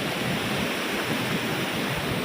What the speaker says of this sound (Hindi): पानी का लेवल बढ़ चुका है और तेज़ी के साथ बह रहा है पानी